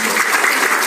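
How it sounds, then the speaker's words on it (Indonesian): An audience at a health talk in Lombok breaks into brief, loud, dense applause, many hands clapping together for under a second. "Tepuk tangan untuk kita semuanya."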